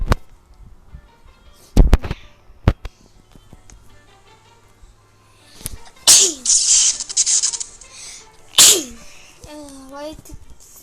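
A child sneezes loudly twice in quick succession during a pretend burger-cooking game, with sharp clicks and quieter play sounds earlier and a voice talking between the sneezes.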